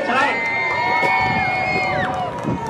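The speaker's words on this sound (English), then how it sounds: "how about a nice round of applause for the 35, Chris Watson" Crowd at Star Speedway applauds and cheers during a street stock feature race night, the noise steady throughout, mixed with loud droning race-car engines and an announcer talking over the PA.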